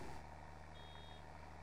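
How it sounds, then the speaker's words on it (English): In Farming Simulator 22, a baler's full-bale alarm sounds as one thin, steady electronic tone lasting about half a second. It sits faintly over the loud, constant drone of a tractor engine working a field. "The alarm's going off again."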